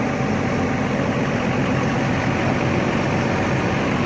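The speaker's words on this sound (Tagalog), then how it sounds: "Patayin ko muna yung aking makina" An engine idles steadily at close range, a constant low rumble with no breaks and no voices.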